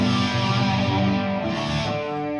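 A distorted electric guitar chord through a multi-effects pedal rings out with thick, sustained crunch and a shimmering effect, loud and close with no voices.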